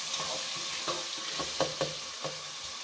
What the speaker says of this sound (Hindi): अब मैं इसको इतना भूनूंगी कि थोड़ा सा प्याज जो टमाटर है वो गल जाए अच्छे से।